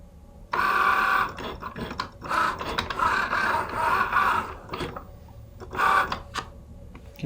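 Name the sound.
Cricut Joy machine cutting vinyl circle for sticker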